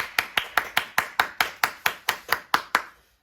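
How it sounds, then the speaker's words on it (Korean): Crisp, steady claps from a church congregation celebrating birthdays at a Sunday service, about a dozen evenly spaced strikes that sound like a single pair of hands nearby, ending abruptly with no talk over them. "모두에게 우리가 박수로 축하하도록 하겠습니다."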